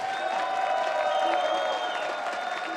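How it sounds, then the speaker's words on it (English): Steady applause from a crowd at a World of Warships esports grand final in Warsaw carries on for a few seconds, moderately loud under a sustained tonal backdrop. "Come on, a big round of applause."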